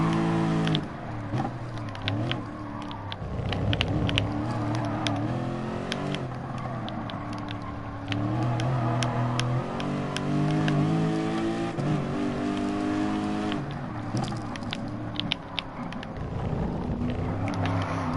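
A race car engine from a PS4 racing game drones loud and close, revs climbing and falling through gear changes and braking for corners, continuous with no speech.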